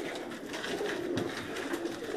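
Pigeons coo softly in a low, continuous murmur, faint and somewhat distant, with no voices over them.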